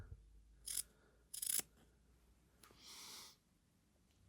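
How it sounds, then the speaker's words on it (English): Scissors snip through mint green fabric in two short, close cutting bursts, followed by a softer rasping stretch as the blades slide through the cloth, all alone without talk. "So I'm going to cut a triangle out of this."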